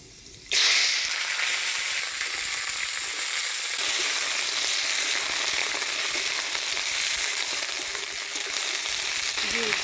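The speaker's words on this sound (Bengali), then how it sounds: "এই তেলের মধ্যে আরেকটু তেল দিয়ে ফোড়ন দিয়ে দেবো শুকনো লঙ্কা, কালো জিরা।" Vegetables hit hot oil with dried chili and nigella seeds in a village kitchen, bursting into a loud, steady sizzle after a brief quiet start and crackling without pause.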